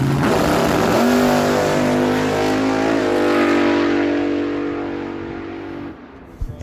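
A blown 532 cubic inch big-block Miller dragster burning alcohol roars loud and close at a drag strip, holding a steady high-revving blast that shifts up, then fades away at the end.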